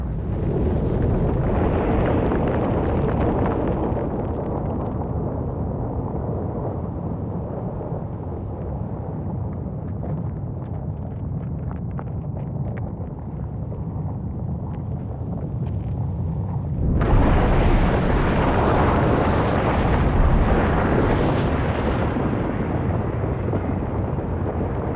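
Volcanic eruption roars in a long, dense rumble of explosions near the sea surface, steady for much of the span before a sudden louder, brighter surge of blasting and hissing.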